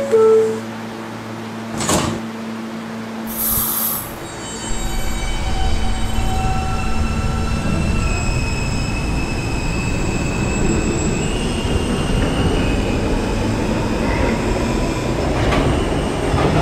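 A New York R160B subway train on the K line rolls along with a steady roar, squealing wheels and sharp metallic screeches, after a few sparse clanks and a quiet start.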